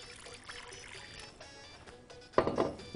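Water is poured from a container onto a loofah while making homemade soap from used cooking oil, a brief close splash near the end after quiet room background.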